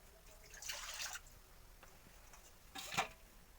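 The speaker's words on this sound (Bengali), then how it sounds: "প্রথমে ধুয়ে নিচ্ছি।" Brinjal being washed under water in a kitchen, heard as two short, soft splashing bursts of running water against a quiet background.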